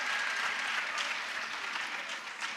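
An audience at a fireside chat claps for a girl, giving a steady round of moderate applause from a modest crowd that holds throughout the short burst.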